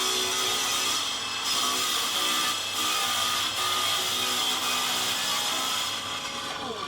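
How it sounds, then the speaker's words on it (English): A table saw rips steadily through a Tasmanian oak benchtop slab, giving a continuous loud whining cut with slight dips in pitch as the blade works through the wood. "This time I used the table saw rather than the track saw"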